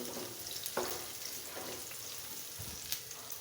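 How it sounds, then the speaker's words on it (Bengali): Raw papaya frying with onion in an oiled pan makes a constant soft sizzle with a few brief scraping stir sounds and small clicks, fairly quiet and close, no voices. "পেঁপেটাকে ভেজে নিব।"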